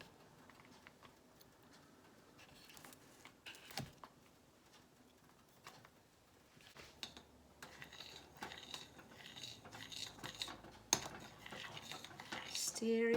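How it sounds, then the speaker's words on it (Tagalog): Vanilla and margarine stirred together in a bowl for banana cream pie, with a utensil clinking and scraping against the dish in uneven, close strokes that grow busier toward the end. "Stir it together."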